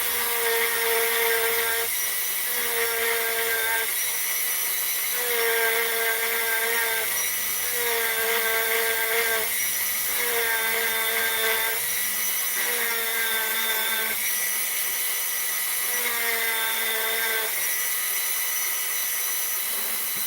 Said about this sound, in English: we're going to hit it with some sandpaper to make it nice and shiny